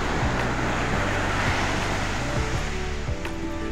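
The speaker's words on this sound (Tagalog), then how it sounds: "Lakas ng alon." Strong ocean waves surge in a steady, loud wash of surf that never lets up. A few faint low thumps and hums sit underneath the roar.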